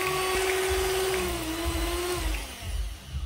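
A hand blender whirs steadily through an ice cream base, its motor whine holding a near, continuous pitch before dipping and wavering toward the end as the mix thickens.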